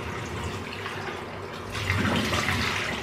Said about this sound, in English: Simply splash my face with water to take the cleanser off.